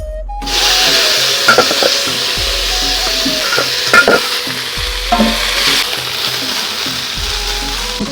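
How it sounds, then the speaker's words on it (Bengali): River fish frying in a kadai, a loud steady sizzle throughout with a few sharper spatters and occasional clinks of a utensil against the pan. "মাছগুলো এখন আমি কড়াতে দিয়ে দিচ্ছি"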